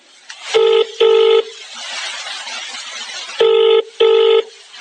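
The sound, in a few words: telephone dialing tones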